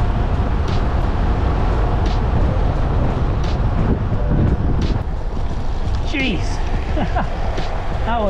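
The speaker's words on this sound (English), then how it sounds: "A little bit windy up here." Steady wind buffets the microphone on a hilltop while cycling in the Trough of Bowland, a loud constant rumble with a few faint higher sounds drifting through.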